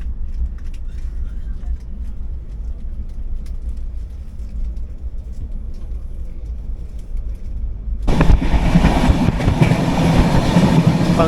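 Interior of a moving Trivandrum–Chennai AC Superfast passenger train nearing Katpadi Junction, a steady low rumble and rail hum that swells suddenly louder partway through, continuous and close.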